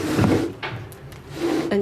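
A few short scraping and knocking sounds of a draught-proofed window frame sliding open and bumping against compressing seals, close by, with brief pauses between them.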